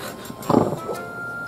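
A corgi lets out a single short bark indoors, close and moderately loud, with a quieter yelp after it and no talk.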